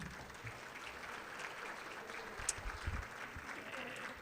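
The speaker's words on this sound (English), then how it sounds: "Let's give Tom another round of applause" Quiet round of applause from a gala audience, a soft wash of clapping heard from a distance with a few sharper claps and faint crowd murmur throughout.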